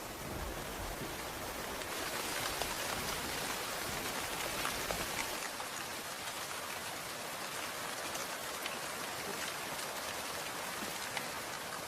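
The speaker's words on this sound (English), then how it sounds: "Finally, the rainy season has arrived." Steady, dense rainfall during the rainy season in the Afar region, pouring continuously and evenly with a full hiss, close by and unbroken, with no voices.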